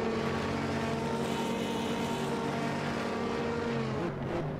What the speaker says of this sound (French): le bruit de la Ferrari, c'est un truc de fou